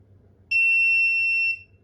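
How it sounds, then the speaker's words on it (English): A single sustained electronic beep from an engine ECU programmer signalling a successful read, high and pure, lasting about a second against near silence. "You hear the beep."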